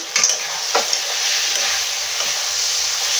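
Chopped chicken pieces dropped into a pan with jackfruit, with several crackling thumps followed by a steady close frying sizzle and light stirring.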